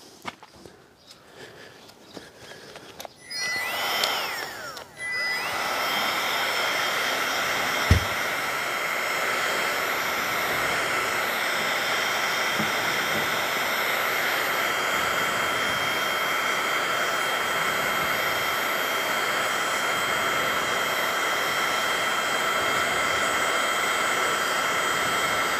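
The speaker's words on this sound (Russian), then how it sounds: "теперь работа фена" Heat gun running during a window installation, starting after some handling noises and then blowing as a loud, steady, continuous whirring roar, with a single knock partway through.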